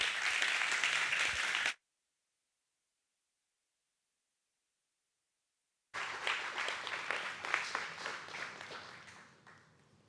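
Audience applause welcomes Dr. Roosevelt Montás to a talk on liberal education: a full, steady clapping burst, then a silent break, then a second round of clapping that gradually fades.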